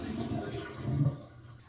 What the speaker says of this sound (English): you give the toilet a flush to empty the tank